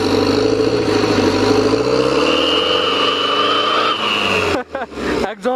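Mahindra Thar 4x4 engine revving through its exhaust, a steady loud mid-pitched drone that rises in pitch, then breaks off near the end as people talk briefly.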